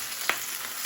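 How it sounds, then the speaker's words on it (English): Fresh tuna steak frying in a pan, a soft, steady sizzle with a brief louder crackle, faint and close. "So with one tuna steak chucked in and sizzling nicely, let's chuck the other one in."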